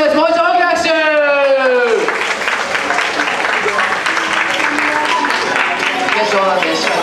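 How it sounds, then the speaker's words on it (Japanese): Applause from an audience at a dance competition final in Sapporo, dense clapping rising after an announcer's amplified voice and continuing steadily, with the voice speaking over it near the end. "もう一度大きな拍手"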